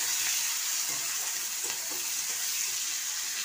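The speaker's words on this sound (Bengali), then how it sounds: "এবার পেঁয়াজটাকে আমি ভালো করে ভেজে নেব" Chopped onions frying in hot oil in a pan for a ridge gourd, pea and prawn curry, a continuous bright sizzle with occasional stirring clicks, close and steady throughout.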